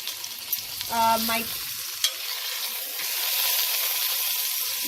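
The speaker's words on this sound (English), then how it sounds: "so now I'm sauteing my meat, and it's been browning" Pork sizzles and sears in a hot pan for Italian-style roast pork, a steady broadband hiss with a brief stirring clatter near the start and a sharp click midway.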